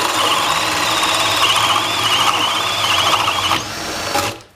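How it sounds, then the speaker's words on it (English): A power drill fitted with a Spyder carbide hole saw boring into a knot in a piece of wood, a loud, continuous whirring grind that runs steadily for about four seconds and then spins down. "I'm actually going to drill this right into that knot right there."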